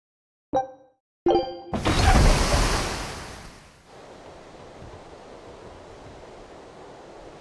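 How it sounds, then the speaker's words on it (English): Ocean waves in Tales of Berseria rise in a loud rushing surge after two short knocks, then ease into a steady, softer wash of surf that keeps going without a break. "we're safely on the rolling waves"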